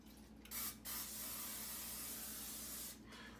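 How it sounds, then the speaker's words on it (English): A short hissing spray burst, then a longer steady spray of several seconds from an aerosol can of coconut oil into a pan, close by, with quiet background hum. "I'm going to spray it with this coconut oil"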